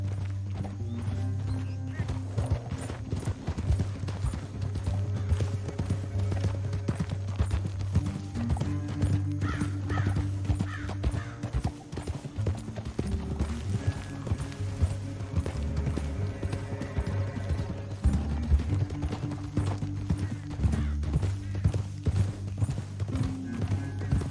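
Horses gallop in Red Dead Redemption 2, loud steady hoofbeat clip-clop rolling throughout with an occasional whinny and game music underneath.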